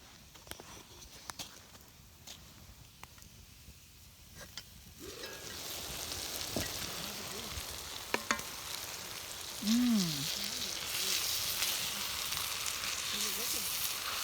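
Dinner cooking in a pot over an outdoor campfire gives a faint, steady sizzle and hiss that grows a little louder midway and continues without pause.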